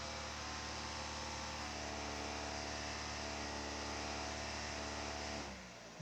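A 1.8-litre engine in a 2014 Chevrolet Sonic with a lean-running fault holds a steady idle-up hum near 2,000 RPM, a continuous close drone with even harmonics that drops off abruptly at the end.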